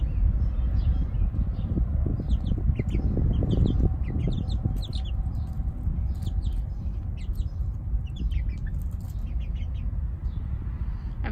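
Plymouth Blue and Amberlink chickens cluck continuously at close range, with sharp high chirps scattered over a steady low background.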